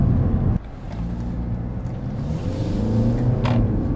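A 2021 Mercedes C-Class with a 200 hp diesel engine pulls steadily from inside the cabin, a low continuous drone that thickens and rises slightly as it accelerates, with no voices.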